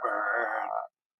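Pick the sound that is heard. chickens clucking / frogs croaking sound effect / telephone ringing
frogs croaking sound effect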